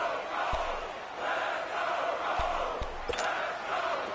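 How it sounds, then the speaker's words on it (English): A stadium crowd roars steadily at a football game in a video game, a broad continuous swell that rises and falls. A few sharp thuds break through partway. "the crowd getting into it as we come up on a big third down"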